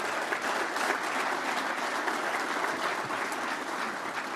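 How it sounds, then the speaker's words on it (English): Steady, sustained audience applause at an agricultural summit conference in Saskatchewan, a dense wash of many hands clapping at once, fairly close and even throughout, with no talk over it. "Let's give her another round of applause."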